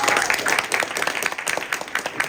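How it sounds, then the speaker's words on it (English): A big round of applause from the audience at a startup pitch session, lively close clapping with individual claps standing out in a quick, uneven rhythm across the short stretch. "Guys, can I have a big round of applause?"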